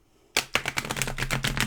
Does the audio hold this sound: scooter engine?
no